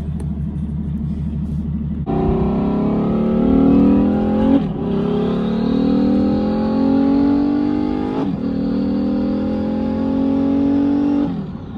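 A Ferrari F12 V12 engine revs hard while driving, rising through the gears in long climbing sweeps with sharp drops at each shift, loud and close from inside the car, no talking.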